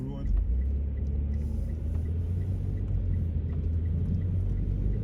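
A car drives along a road, producing a steady low engine and road rumble heard from inside the cabin, constant and unchanging with light rattles on top.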